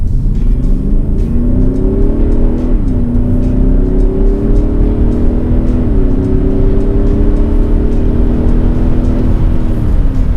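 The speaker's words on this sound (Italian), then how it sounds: "Quello che sto guidando non è un diesel qualunque, ma è il SUV diesel più potente al mondo" Audi SQ7 ABT diesel SUV accelerating in dynamic mode, a loud, steady engine drone rising in pitch through the gears with brief dips at each shift, heard from inside the cabin.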